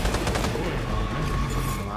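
Rapid gunfire in the video game Cyberpunk 2077, a dense, continuous volley of loud shots packed closely together.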